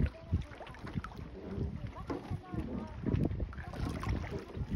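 Wind buffets the microphone during a canoe outing, with rumbling gusts and water sloshing against the boat. People talk and laugh over it throughout.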